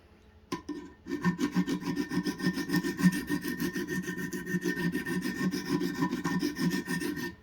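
A knife blade is drawn repeatedly across a coarse 50 grit stone on a Wicked Edge Pro-Pack III sharpener, giving a steady run of close, rasping scrapes after a sharp click at the start.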